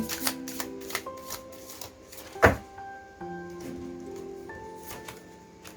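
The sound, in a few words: tarot cards being shuffled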